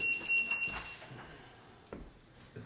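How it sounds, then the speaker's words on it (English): A few thin, high electronic beeps chirp faintly in quick succession at the start, over quiet room noise and soft shuffling. "Kyle, you're beeping."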